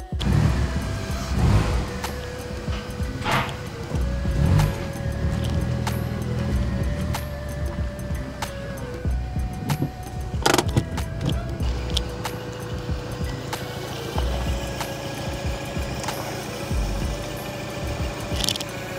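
A Peugeot 208 GTI engine runs steadily at a low rumble, with occasional clunks and knocks nearby and a faint tonal whine drifting in and out.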